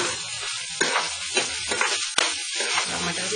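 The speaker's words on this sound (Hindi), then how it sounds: "पहले आप प्याज भून लीजिए फिर मटर डाल दीजिए" Onions and peas frying in a pan over a medium flame, a steady close sizzle with light stirring crackles and a few small pops.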